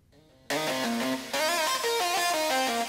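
Electric piano with heavy distortion in a future bass track, playing a loud sustained chord line. A quieter passage leads into a sudden full-volume entry after about half a second, with brief dips between chord changes.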